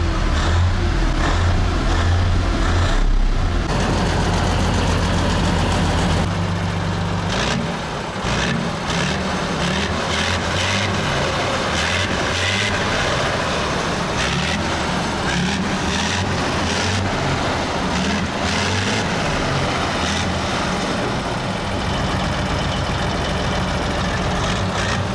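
A Soviet BAZ amphibious vehicle's big engine idles loud and close with a deep, steady, throbbing rumble that runs throughout, rising slightly in roughness after the first few seconds. There is no speech.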